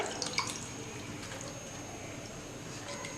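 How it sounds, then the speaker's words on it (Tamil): Palmyra sprouts being washed in water, giving soft steady splashing and trickling with a few brief drips, close and fairly quiet, with no talking. "அடுத்து பனங்கிழங்குகளை தண்ணியில் வாஷ் பண்ணிக்கலாம்"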